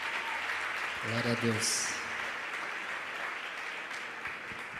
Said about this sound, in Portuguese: Vocês podem dar uma salva de palmas para Jesus?